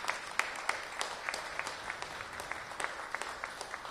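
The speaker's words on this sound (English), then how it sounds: "So let's give them a big round of applause." Steady applause from a crowd, many hands clapping evenly at a moderate distance with no voices.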